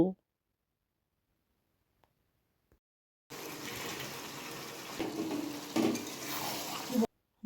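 Hot water being stirred into a pan of cauliflower fritters for chilli gobi, a steady wet stirring and sloshing with some sizzle that starts after a quiet gap and runs for about four seconds, with a brief voice at the edges.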